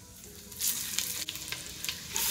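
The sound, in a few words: grated onion sizzling in melted unsalted butter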